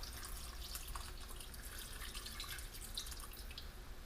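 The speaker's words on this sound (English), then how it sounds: "Now my stock goes in." Stock pours into a pot for jambalaya, a steady, faint liquid splashing and trickling stream lasting several seconds.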